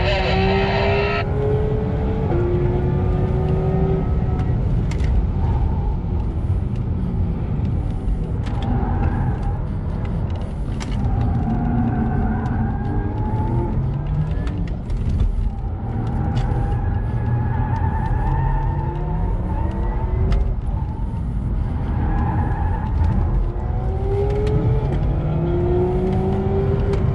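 Porsche Taycan electric car driven fast around the Hockenheim Porsche Experience Center track at night, a steady loud whir and rushing road and wind noise with rising and falling motor tones through corners, continuous throughout.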